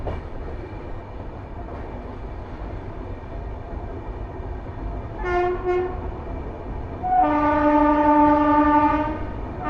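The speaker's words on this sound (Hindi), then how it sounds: "हमारी तेलंगाना एक्सप्रेस सेवाग्राम जंक्शन को धीरे धीरे स्किप कर रही है।" Telangana Express rolling slowly through Sevagram Junction, with steady rumbling wheel and carriage noise throughout and loud, sustained multi-tone train horn blasts, a short one midway and a longer one near the end.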